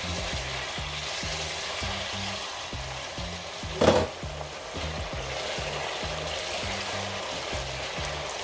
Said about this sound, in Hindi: अब इसको तब तक कुक करेंगे जब तक कि चिकन जो है वो गल ना जाए।